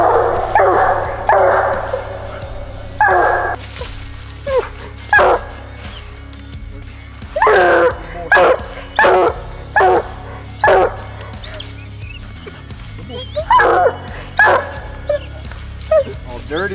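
A hunting dog, a world champion bred pup, bays repeatedly at a tree after a night run through a swamp, loud and close in rhythmic bursts with short gaps.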